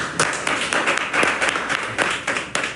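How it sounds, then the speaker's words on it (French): A crowd applauds with steady, dense clapping that carries on throughout at a fairly loud level. "Applaudissons pour Axel Mérine, s'il vous plaît"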